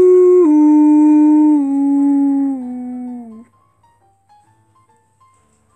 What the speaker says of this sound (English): I hear wolves.